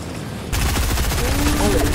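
Rapid gunfire in Fortnite bursts in abruptly after half a second of quieter game sound, a loud dense rattling fusillade of shots that continues to the end, with a faint tone line sounding underneath.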